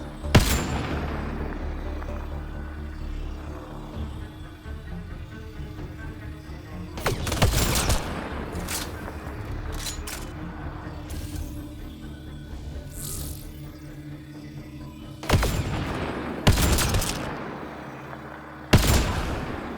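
Gunfire from the Mass Effect Andromeda video game: sharp bursts and booming shots break out in clusters at the start, midway and near the end, loud and punchy over a low steady hum of game ambience.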